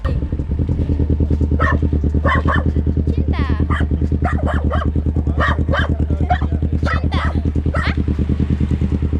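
A dog barks in a rapid, yapping series over the loud, steady rumble of a nearby motorcycle engine on a road in Bali, the barks close and repeated throughout.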